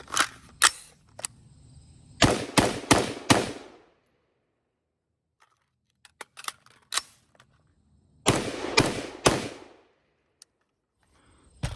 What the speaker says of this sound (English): Let's load up more magazines and get shooting.